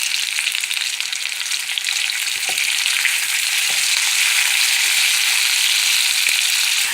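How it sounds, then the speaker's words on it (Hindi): Potatoes frying in oil in a pan with ajwain and salt, a loud continuous close sizzle with a few soft stirring knocks, no voices. "ये देखें फ्राई हो रहे हैं आलू"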